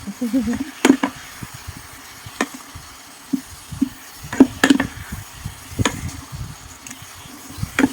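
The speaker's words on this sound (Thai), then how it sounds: "ผัดเรื่อยๆจ้ะผัดไปก่อนจ้า" Food, eggs with gourd and cabbage, sizzling and being stir-fried in an electric pan, with repeated scraping and tapping strokes over a steady low hiss, a few sharp clacks standing out.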